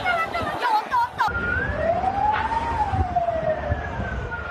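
A fire engine siren wails, sweeping up and down through steady traffic noise as it approaches a large fire, loud and nearby, with a brief yelp at the start.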